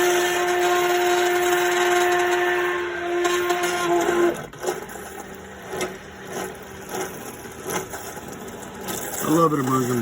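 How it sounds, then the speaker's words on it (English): An immersion blender whirs steadily while blending caramel into syrup, a loud motor drone that cuts off after about four seconds and is followed by scattered clatter and handling noises. "I love an immersion blender and what it does."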